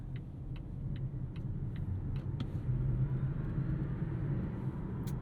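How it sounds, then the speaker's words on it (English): A 2022 Volvo XC40 Recharge electric all-wheel-drive SUV accelerates hard, giving a low, smooth rising hum and road rumble from inside the cabin, with faint regular ticking early on and no talk. "as soon as you put your foot down, you've got all 486 foot-pounds of torque going through all four of these wheels"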